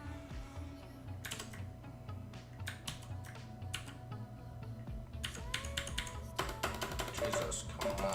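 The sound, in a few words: typing on a 60% computer keyboard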